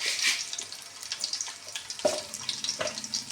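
Lightly crushed garlic cloves frying in hot tempering oil, a soft continuous sizzle with scattered crackles and small pops, close and fairly faint, without talk.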